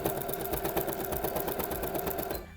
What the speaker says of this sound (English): So as I'm pushing through the sewing machine